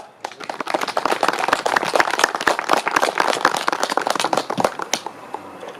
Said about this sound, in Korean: 추모식을 힘찬 박수와 함께 시작하겠습니다